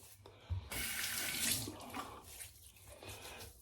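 Steady water runs from a tap into a sink, a broad continuous rush filling the whole clip with a brief splash near the start as hands meet the stream, close and fairly loud.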